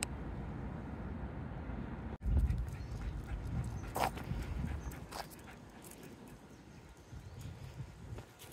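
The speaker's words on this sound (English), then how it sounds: "Puppy. He's just out in the front yard." A puppy out in a front yard gives a few short dog sounds, with one sharper burst near the middle, over steady outdoor background noise.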